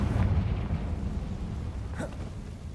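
A Confringo explosive spell goes off in Hogwarts Legacy: a deep, rumbling blast that swells at the start and gives way to a brief popping burst near the end, moderately loud with no voices.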